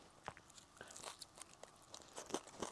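Someone bites and chews crunchy fried chicken gone cold, a series of sharp, close, quiet crunches in an irregular rhythm, with no talking.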